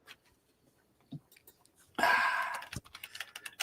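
Rapid keyboard typing of a short entry into a computer, a sharp cluster of close clicks starting midway and tapering into scattered taps, following a quiet stretch with a few soft sounds.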